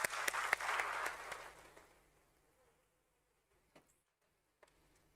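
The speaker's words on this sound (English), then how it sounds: "Let's have a big round of applause." At a stock exchange listing ceremony for a healthcare company, a crowd applauds loudly for about two seconds before the clapping fades into near silence, with a couple of faint knocks afterward.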